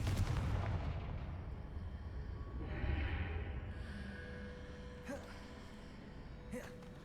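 A Confringo fire spell in Hogwarts Legacy bursts with a booming blast at the start, then a long rumbling decay, with a few faint sharp crackles afterward.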